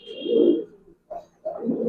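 A pair of silver sabchila Giribaz pigeons coos in soft, throaty bursts close by, one long rolling coo, a short break, then more murmuring coos.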